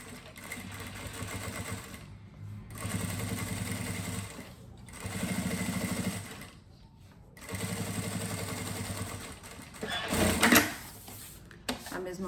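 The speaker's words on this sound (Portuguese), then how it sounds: "Agora a gente faz o pesponto." A sewing machine topstitching a fabric pouch runs in three steady whirring bursts separated by short pauses, loud and close, followed by a brief clatter of handling.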